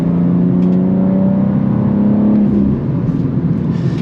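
A BMW M2 G87 drives along the road, its engine giving a loud, close drone with a gradually rising pitch, then easing off near the end amid road and tire noise.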